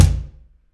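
A single deep cajon bass stroke made with the hand left resting on the playing surface, giving a short, loud, muffled thump that dies away within about half a second.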